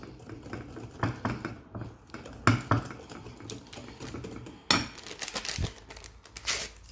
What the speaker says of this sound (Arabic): غادي نضيف الزبده اللي ذوبتها، نخلط دغيا.